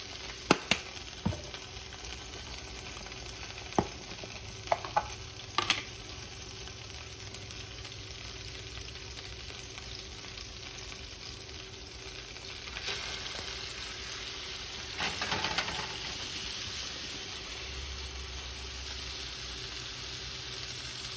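Hot grease crackles and sizzles steadily around Salisbury steak frying in a pan, with scattered sharp pops and a louder flare of spattering midway, no voices present.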